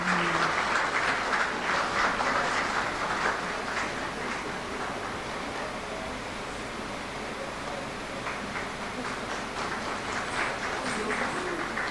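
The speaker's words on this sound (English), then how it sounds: "So please, in a clatter of claps, can we?" An audience applauds at an international relations peace award ceremony, a dense, even patter of many hands that carries on for the whole stretch, slightly distant and a little softer toward the middle.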